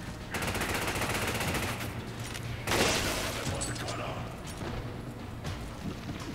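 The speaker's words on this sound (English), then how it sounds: "I bet I can't shoot through this little gap" Rapid gunfire rattles in Resident Evil 5, dense bursts at first, then a heavier blast and scattered shots over continuous game noise.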